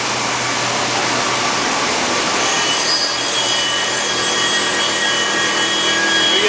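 A machine grinds the face of a concrete block for a ground-face finish, making a continuous loud, rough, abrasive roar that holds steady throughout with no talk.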